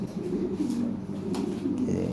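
Low, throaty pigeon cooing rolls on steadily throughout, a close, continuous murmur with faint background rustle.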